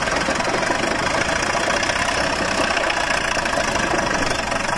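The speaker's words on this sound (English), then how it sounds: "Here's where the hoisting engine, which is what propels the steam shovel, you can see it's blowing quite a bit of smoke." Hoisting engine of a Bucyrus Erie steam shovel running at a worksite, a loud, steady chugging and knocking drone with heavy low rumble and constant vibration, no talk.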